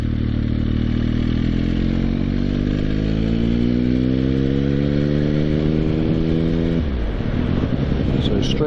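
Motorcycle accelerating out of a roundabout, engine note rising steadily through a gear before a shift near the end, loud and close with constant wind rush.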